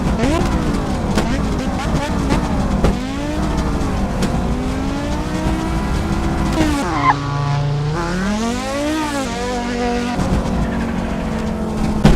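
A car in the Assetto Corsa racing sim roars loudly and continuously, its engine rising and falling through revs and gear changes, with a brief tire squeal midway and no pause throughout.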